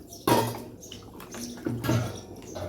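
Cooking water from boiled mochai beans is poured into a pan for a Tamil bean kuzhambu. Two splashing bursts of liquid come with soft dripping and vessel clinks in between, close and moderately loud, with no talk.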